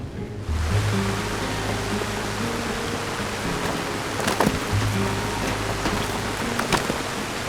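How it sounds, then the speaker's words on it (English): Water from a ride pours onto a water mill in a building game, a steady, broad rushing splash like a waterfall, constant throughout with a few soft low tones and clicks beneath it. "have the water come down and fall onto this water mill"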